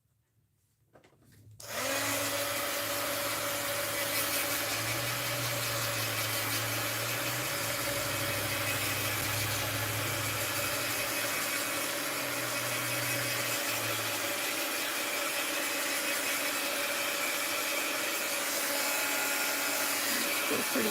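A hair dryer blows on a wet gouache painting, switching on after a short quiet start and then roaring steadily and loudly close by for the rest of the time.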